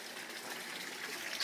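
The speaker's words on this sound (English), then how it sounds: "At the end of the pipe just discharges into the tank." Water pouring from the end of a pipe into a 55-gallon drum used as a mineralization tank for a fish tank system: a steady, hissing splash and trickle, continuous and close, with no talking.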